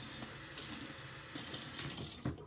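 Water gushes from a tap into a container at home while soap or slime is being made, a steady close splashing hiss that fills the short stretch before ending abruptly.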